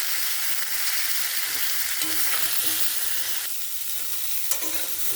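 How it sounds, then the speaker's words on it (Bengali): Cauliflower, flat beans and carrots fry together in spiced oil for a mixed vegetable curry with fish, a strong continuous sizzle close up, broken by a few scraping stirs and light clatters, with no talk. "এবার এর সাথে ফুলকপি, শিম, গাজর এসব দিয়ে এগুলো ভেজে নেব একসাথে"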